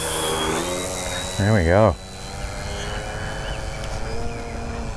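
A balsa wood PT-19 radio-controlled plane's motor runs at low throttle, a steady, fairly quiet whining hum held near the listener while someone talks over it.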